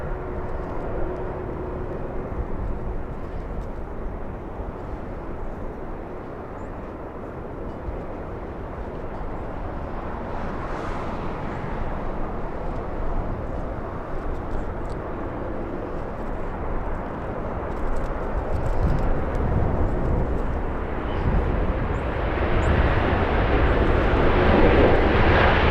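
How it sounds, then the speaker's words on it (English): A Delta Airbus A321neo arrives at Los Angeles International Airport from Seattle. The jet rumble holds steady, then grows louder and nearer toward the end as the aircraft approaches. "we'll take a look at Delta's 1598 flying in from Seattle, Washington, a 2-hour flight,"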